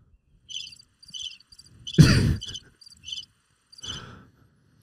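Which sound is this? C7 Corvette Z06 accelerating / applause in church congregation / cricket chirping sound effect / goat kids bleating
cricket chirping sound effect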